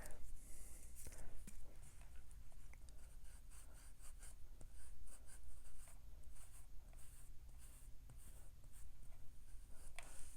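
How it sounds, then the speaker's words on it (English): An eraser rubs out pencil lines on paper for a watercolour plum drawing, heard as soft, close scratchy scrubbing strokes repeating in an uneven rhythm, quiet and without talk. "Now I'm just going to erase all the extra lines so you can see this a little better."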